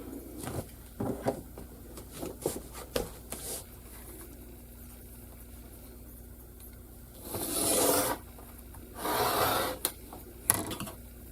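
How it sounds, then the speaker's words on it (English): Quilt edge being trimmed, with soft intermittent rasping and rubbing cuts plus a few louder scraping strokes near the end, close and fairly quiet. "Now I have to trim my quilt."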